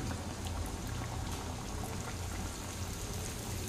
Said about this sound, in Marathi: तेल आपलं छान तापलेलं आहे, तर जी आपली खालची जी बाजू असेल ती वरती ठेवायची आणि वरची बाजू खाली ठेवायची आणि असं हळूच तेलामध्ये सोडून घ्यायचं आहे